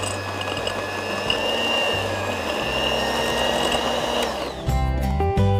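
An electric mixer beats 100 grams of butter until creamy for gulkand cupcakes, a loud, steady motor whine that shifts pitch and texture near the end, with no talking.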